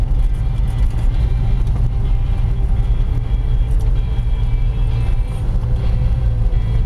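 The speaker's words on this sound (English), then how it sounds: "She's driving a stick truck." A manual stick-shift truck driving on a road in New Zealand, a steady close engine drone and low cabin rumble that runs unbroken throughout, with no clear rise in pitch.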